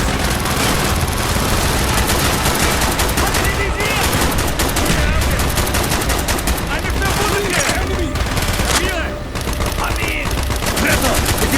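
Mortar and heavy gunfire from a Call of Duty Black Ops battle, a dense, loud and continuous barrage of blasts and rattling shots filling the whole stretch, with voices calling out over the din.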